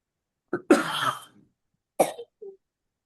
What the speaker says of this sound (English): Now I'm coughing too.